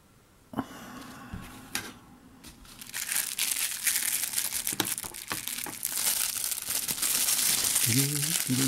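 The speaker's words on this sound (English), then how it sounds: "I do like the greaseproof paper that these knives come in." Greaseproof paper wrapped around a cheap Frost Cutlery Ocoee River stockman pocket knife is unwrapped, with close crinkling and rustling that starts in short bursts and then turns into a steady, dense crackle.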